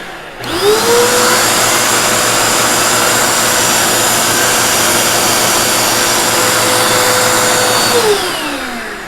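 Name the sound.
Dirt Devil vacuum cleaner running with animal brush attachment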